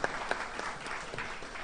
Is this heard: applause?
yes